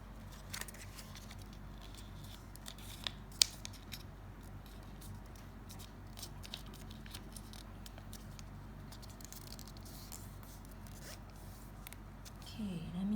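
Paper is creased and folded into an origami Easter egg, giving faint, close rustles and crisp little crinkles with a few sharper clicks in a quiet room.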